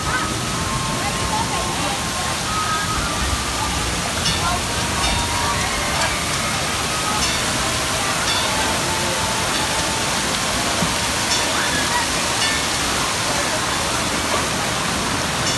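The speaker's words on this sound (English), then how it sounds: "waiting for the bucket drop off the water" A large water park bucket dumping water, heard as a continuous roaring splash and rush of falling water over a broad wash of noise, with voices mixed in around it.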